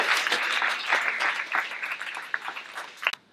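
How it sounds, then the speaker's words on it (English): A room full of people gives a round of applause, dense clapping that thins out and trails off toward the end. "So give everyone a round of applause for coming."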